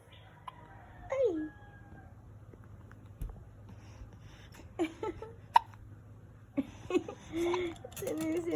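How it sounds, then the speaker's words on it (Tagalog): A baby hiccups several times during bath time in a bathroom with a small tub, sharp little bursts spaced through the clip with quiet gaps, while an adult talks softly over it. "Sinisinok ang pogi na yan."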